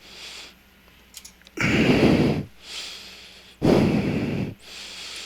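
Heavy breathing from a person on supplemental oxygen: two loud, drawn-out breaths close to the mic, each about a second long, with quieter airy hiss and faint clicks between them.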